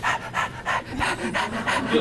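A person imitates a corgi panting with quick, rhythmic breathy huffs, about seven bursts in two seconds, close and fairly loud with no other sound.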